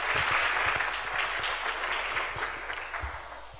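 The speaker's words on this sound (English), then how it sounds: "Please give them a round of applause" A school debate audience claps for the Eastleigh High School team, a steady wash of applause from a crowd in a hall, holding at an even level and easing slightly toward the end.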